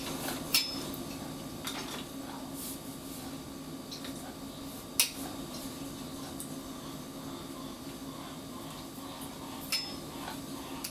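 Beeswax chunks are dropped into a glass canning jar that already holds coconut oil. A few sharp clinks and taps sound at irregular moments over a quiet room hum, with no talk.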